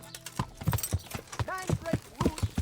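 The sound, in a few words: horse hooves clip-clop in video game Kingdom Come Deliverance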